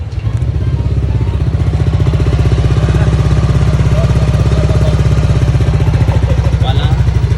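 A motorcycle engine idles steadily close by during a test start, a continuous low rhythmic putter with mechanical clatter that holds level from start to finish.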